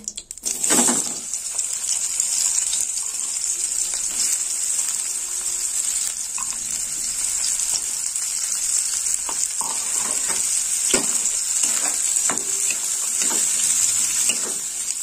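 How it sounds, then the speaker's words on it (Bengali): Onions frying in hot ghee: a sharp burst as they hit the pan, then a long steady bright sizzle with occasional clinks and stirring scrapes, close and fairly loud, no speech. "ঘি গরম হয়ে গেছে, এবার আমি পেঁয়াজ দিয়ে দেবো।"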